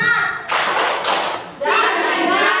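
A group of schoolchildren claps in a class cheer, a loud burst of clapping with a couple of sharp accented claps, a short pause, then a dense clatter of clapping resuming.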